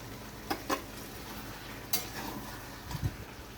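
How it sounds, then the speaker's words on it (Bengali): Fried fish heads are stirred into cooked vegetables in a pan, making a few quiet, scattered scrapes and clinks of a utensil against the pan over a soft background, with no talking. "মাছের মুড়িগুলো আমি সবজির সঙ্গে ভালোভাবে মিশিয়ে নিয়েছি"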